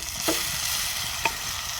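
Tomatoes frying in a pan for fish curry give a continuous close sizzle, with two brief spoon scrapes as they are stirred.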